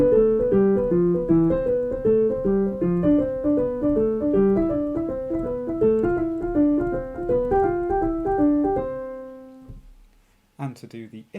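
Bowed string instrument playing a warmup exercise in a long-short dotted rhythm, a steady run of close, resonant notes stepping through a scale, ending on a held tone before a brief trailing sound.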